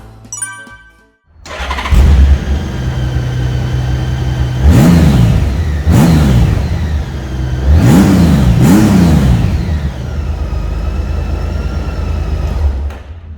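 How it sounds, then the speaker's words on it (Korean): A 2012 North American-spec Honda Gold Wing 1800 motorcycle engine cranks and catches, then settles into a steady idle broken by four sharp throttle blips, loud and close with no talking. "네, 이제 시동 영상 한번 보겠습니다."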